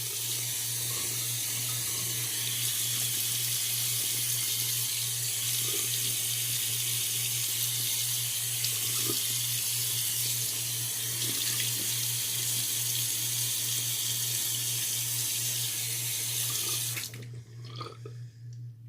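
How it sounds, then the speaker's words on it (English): Tap water runs steadily into a sink for a face rinse during a wet shave, a loud continuous close splashing rush with a low hum beneath, cutting off abruptly near the end; no talking. "Now I'm going to rinse my face, relather, and go across the grain."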